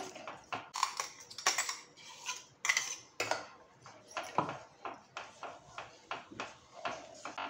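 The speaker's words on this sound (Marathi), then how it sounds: "मंद गॅसवरती आपल्याला असं ढवळत राहायचं आहे" A utensil scrapes and clinks repeatedly against a metal pot of milk and rice on low heat in a steady stirring rhythm, close and fairly quiet, with no talking.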